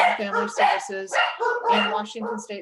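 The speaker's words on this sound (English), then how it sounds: "Sorry about the dogs greeting somebody outside" Several dogs bark and yip outside, greeting someone, loud and repeated in short bursts, mixed with a person speaking over them.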